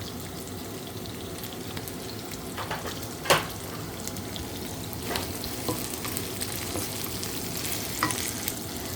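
Sotanghon noodles and chicken are stirred in a frying pan, with a continuous sizzle and soft scraping plus an occasional louder clack of the utensil, close up and without talk.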